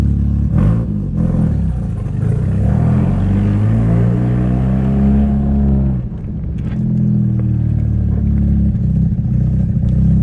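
A Mazda RX7 FD3S rotary engine revs loudly and steadily as the car climbs a driveway, with a brief dip in load partway through before the engine note pulls up again.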